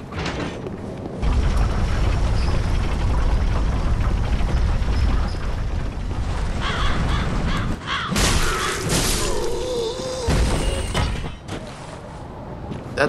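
Crows caw amid clanking, ratcheting gear mechanisms in Dark Souls 3, harsh cries mixed into loud, dense game sounds for several seconds, with no talk over it.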